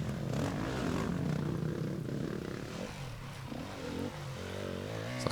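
An enduro motorcycle engine drones and revs continuously with the clutch slipped, a rough, fairly loud steady roar with pitch wavering up and down at an endurocross race.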